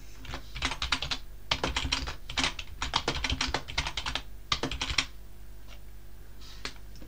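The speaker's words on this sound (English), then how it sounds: "all we need to do is type the word file" Typing on a computer keyboard, a fast, close run of crisp key clicks in steady bursts with short pauses, then a few isolated keystrokes at the end; no talking.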